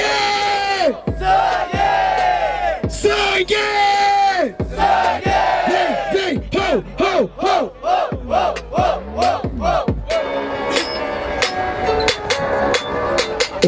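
A crowd at a Brazilian street rap battle chants in unison, repeated loud rhythmic shouted syllables rising and falling together, close and energetic, continuing for several seconds before turning into looser cheering.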